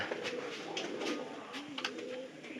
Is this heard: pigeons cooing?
yes